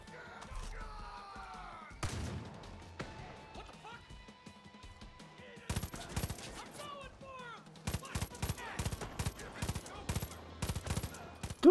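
Far Cry 5 gunfire: sharp shots and rapid bursts rattle in clusters during the second half, mixed with game sounds while a voice talks over them.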